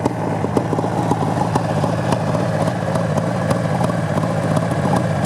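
A 1972 Suzuki GT750 motorcycle engine idles steadily nearby, a low rumbling putter holding an even level throughout with no voices.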